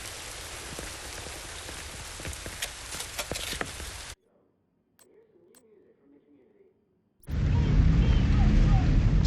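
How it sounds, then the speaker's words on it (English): Steady rain pouring down in the video game The Division 2, a dense broadband hiss that fills the first four seconds, drops out to near silence with a faint sound, then returns heavier and louder. "I just want to get out of this fucking rain"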